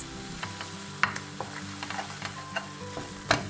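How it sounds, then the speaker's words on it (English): Höşmerim mixture being stirred and browned in a pan over low-medium heat: a low sizzle runs underneath while a spoon scrapes and clicks against the pan in scattered, irregular strokes. "the best way and preferable way is to stir it, to brown it over low-medium heat for a longer time"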